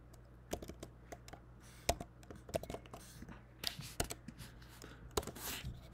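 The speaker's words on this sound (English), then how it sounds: "So we're gonna type in the rest of the email address." Typing on a computer keyboard while entering an email address in Apple Mail: quiet, close, irregular clicks and keystroke bursts with short pauses between.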